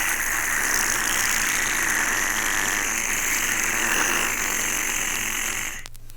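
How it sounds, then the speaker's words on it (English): A boat engine drones steadily while spilled oil is scooped and pumped into tanks on deck, a loud, even hum that runs throughout and ends in a brief mechanical clatter. "That was us scooping the oil into the tanks."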